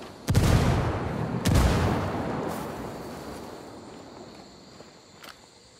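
Two sharp, booming blasts from a frag grenade in Ghost Recon Wildlands hit close together near the start, each followed by a long rumbling decay that fades over several seconds, with a faint click near the end.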